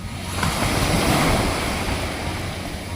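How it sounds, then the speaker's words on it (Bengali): Sea waves crash and wash continuously onto the shore near fishing boats, a loud, close surf roar with some wind across the microphone and no voices. "কখনো ছোট ছোট ঢেউ, কখনো বড় বড় ঢেউ এখানে এসে আসে পড়ছে"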